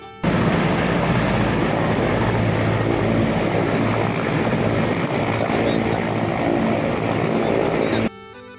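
An aircraft departs from Manpur airstrip near Mount Abu, its engine or propeller roaring in a loud, continuous broadband wash for about eight seconds before stopping abruptly.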